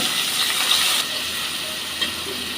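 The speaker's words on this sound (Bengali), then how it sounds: "আদা বাটা দিয়ে দিলাম রসুন বাটা দিয়ে দিলাম একটু ভেজে নিলাম" Chopped onion, tomato, ginger paste and garlic paste frying in a pan, a steady close hiss of sizzling with faint scraping and stirring clatter throughout, no voices.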